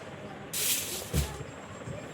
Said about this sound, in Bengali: আমি কেটে একটা পাত্রে ঢেলে নিচ্ছি। ভালো করে দুধটা ঢেলে নিলাম।